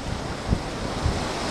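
Steady wind roars over open Atlantic water dozens of miles offshore with a broad hiss, with a couple of low gusty thumps against the microphone.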